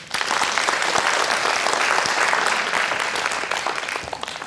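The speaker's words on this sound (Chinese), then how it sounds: "来给他鼓掌" An indoor lecture audience claps loudly and steadily for several seconds, a dense burst of applause that fades slightly at the end.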